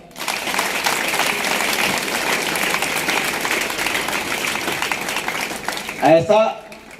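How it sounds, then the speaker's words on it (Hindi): A school audience applauding at a Swami Vivekananda Jayanti event, sustained dense clapping that fades out, followed by a brief burst of speech. "सही बात है कि नहीं? ताली बजाओ।"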